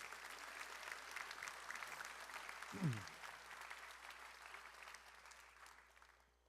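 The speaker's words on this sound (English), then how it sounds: "Another round of applause for these three seniors." Applause for three seniors at a 2024 high school class night, a quiet, distant spread of clapping from the audience that swells briefly near the middle and tapers off toward the end.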